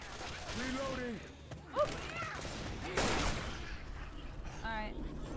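Gunfire rattles in bursts as players shoot zombies in Left 4 Dead 2, with sharp shots scattered across the moment. Excited voices talk over the shooting and game sounds.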